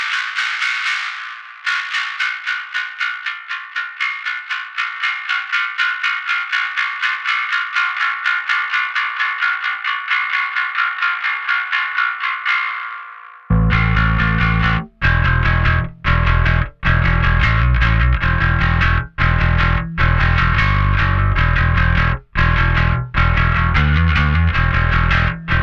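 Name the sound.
metallic distorted sound from Anagram Entropia B3K high band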